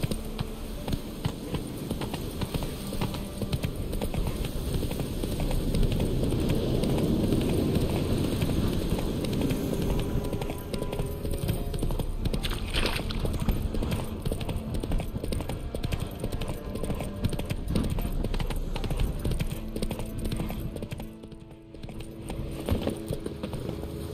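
Roach's hooves gallop in The Witcher 3, a rapid, continuous clatter of hoofbeats over a dense rumble of movement and ambient game noise, fairly loud and sustained before thinning near the end.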